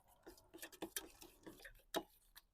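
A spoon stirring a marinade of olive oil, wine vinegar and smoked paprika in a bowl, giving faint, irregular clinks and taps against the dish, quiet and close.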